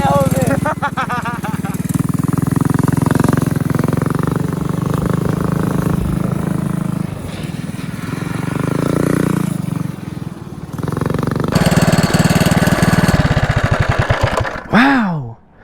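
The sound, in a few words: go-kart with Predator 212cc engine driving on track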